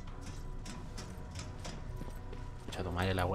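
Fast, regular running footsteps in Terminator: Resistance thud along at a close, moderate level over a game soundscape. Near the end a voice begins talking over them.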